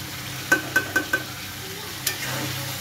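Beef curry is stirred in a wok: four quick metallic clinks of a spoon against the pan come in a steady rhythm, then a single scrape, over a low background hum.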